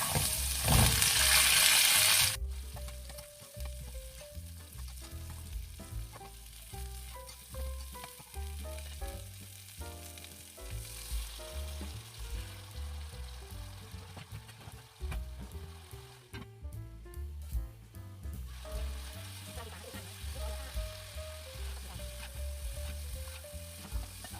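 Garlic frying in a pan gives a loud burst of sizzling at first, then settles into a continuous crackle with scraping and stirring sounds.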